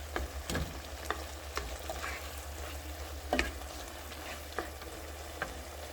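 Bok choy stems sizzle in a hot pan under a steady frying hiss, with a low hum from the stove. Several sharp spatula scrapes and taps are spread through the stirring, and no one talks.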